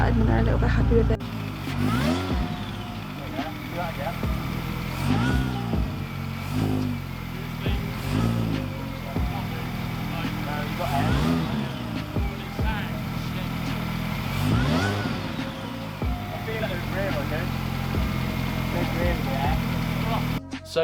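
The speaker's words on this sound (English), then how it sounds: "The car started and they're a little bit happy with it." Classic Mini engine idling and revving after its first start, a close, rough throbbing with repeated blips of throttle rising and falling throughout, with people talking over it.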